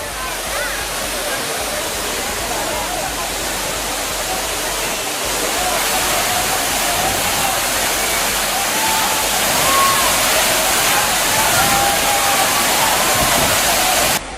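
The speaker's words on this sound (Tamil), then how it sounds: "குற்றாலம் அருவிகளில் வெள்ளப்பெருக்கு ஏற்பட்டுள்ளது" Courtallam waterfall in flood, a dense, loud continuous roar of rushing water filling the whole clip without break.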